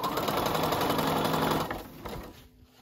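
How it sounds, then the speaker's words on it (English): Sewing machine stitching a narrow hem on a silk scarf panel with Ban-Roll, a steady dense whir for about one and a half seconds that then slows and trails off into quiet. "going to take it back over to the sewing machine and finish that up"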